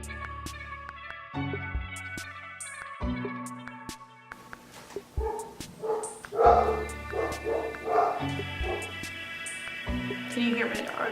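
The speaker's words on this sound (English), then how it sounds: "Can you hear my dogs?" Several dogs bark and yip in bursts, somewhat distant, with whimpering in between while a person talks over them.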